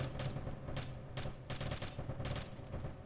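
Tap-fired gunshots in a multiplayer shooter game, short evenly spaced bursts of a few shots each, sharp and close over a steady background hum.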